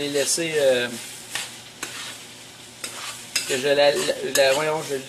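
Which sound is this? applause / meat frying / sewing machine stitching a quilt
meat frying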